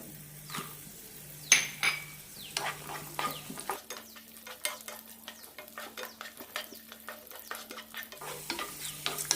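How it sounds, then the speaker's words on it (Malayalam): Raisins fry in ghee in a pan for bread halwa while a spoon stirs briskly, giving repeated close scrapes and light metallic clinks against the pan over a quiet sizzle. "മുന്തിരി ഇടാം"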